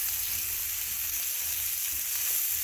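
Steak and onions for a steak sandwich frying on low heat to caramelize, giving a steady, even sizzle that runs close and unbroken throughout with no voices.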